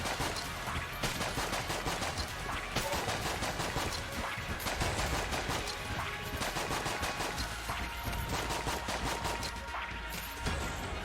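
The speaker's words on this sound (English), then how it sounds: "Keep shooting. Never stop shooting." Rapid, sustained gunfire in the video game Enter the Gungeon, dense repeated shots with crashing impacts running continuously, with no talk.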